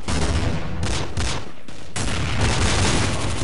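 Dense, continuous automatic gunfire in the Counter-Strike video game, loud and close, with a brief dip in the middle before the rattling volley resumes at full force.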